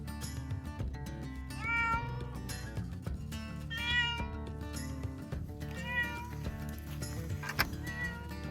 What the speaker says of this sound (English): Okay, I caught Callie's cat in the trap last night